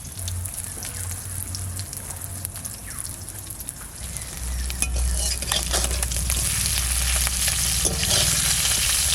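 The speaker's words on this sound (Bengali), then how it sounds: "এই লাউয়ের ছোলাগুলো ভাজা খাওয়া হয় আলু দিয়ে" Gourd peels fry with potato in a pan, giving a continuous crackling sizzle with scraping stirring strokes over a low background hum.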